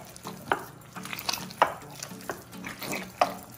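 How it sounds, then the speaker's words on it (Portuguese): Water being worked into esfiha dough by hand, giving wet squelching and sloshing with several sharper splats at irregular intervals, close up and moderately loud, with no talk. "Agora a gente vai dar o ponto da massa com água."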